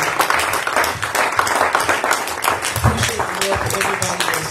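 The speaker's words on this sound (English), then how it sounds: "Clap your hands for Jesus." Church congregation clapping hands during a lively sermon, dense rhythmic clapping filling the room throughout, with voices and shouts mixed in over the applause.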